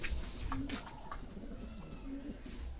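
Adana pigeons in a loft give soft, low cooing calls that recur across a few seconds over a faint background rumble.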